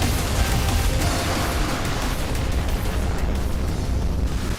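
The main battery of the battleship Yamato fires in the naval combat game Modern Warships, giving a loud, continuous wall of blast and rumble that stays dense and sustained for several seconds before cutting off abruptly.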